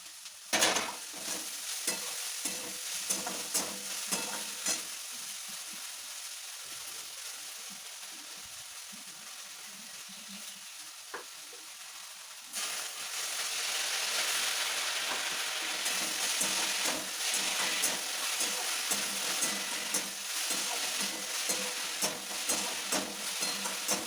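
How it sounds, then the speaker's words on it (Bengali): Drumstick leaves and other greens fry in a pan with a soft sizzle and frequent stirring scrapes. Partway through, a louder, denser hiss takes over, as if more liquid or greens have gone into the pan. "আজকে সজনে শাক রান্না করছি"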